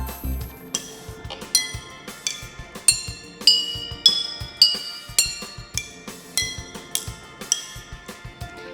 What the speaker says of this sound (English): When I gently hit the bottle, it will make sound.